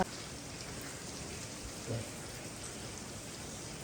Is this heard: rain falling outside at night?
yes